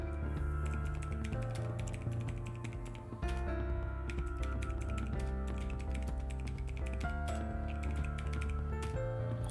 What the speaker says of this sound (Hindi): एड्रेस टाइप करें